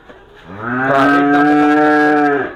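A Holstein Friesian cow gives one long, loud, close moo that swells and then fades, with no other sound around it.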